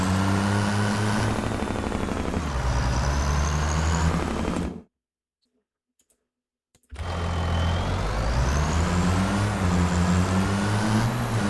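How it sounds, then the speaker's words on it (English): Chevy truck engine in the Farming Simulator 25 game, a loud steady rumble with a shifting whine, cut by about two seconds of silence before it resumes. "So yeah, this is a truck. Chevy truck. It sounds like a pretty decent piece of equipment."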